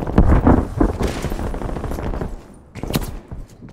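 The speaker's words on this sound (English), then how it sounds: "Who's shooting me, bro?" Bursts of gunfire from a PPSh submachine gun in a shooter video game, loud and close in the first second, then fading into scattered distant shots with another rapid burst near the end.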